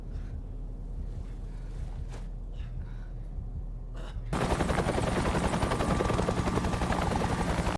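Police helicopter arriving in a film, first quieter rumble with scattered sounds, then a sudden loud, continuous rotor roar with rapid chopping beats filling the remaining seconds.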